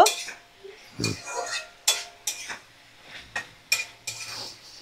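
Spoon scraping and clinking against a pan as sugar is stirred into cooking winter greens, a series of sharp metallic taps and scrapes at a steady, uneven rhythm, close by and fairly quiet.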